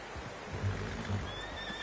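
A horse whinnies in Red Dead Redemption 2, one brief neigh with a shaky rising-falling tone over a steady outdoor background, fairly near and alone without talk.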